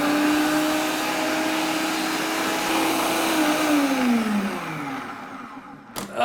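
An electric grinder whirs loudly as it grinds day-old bread, a steady motor drone whose pitch sags and falls away near the end before a short clatter.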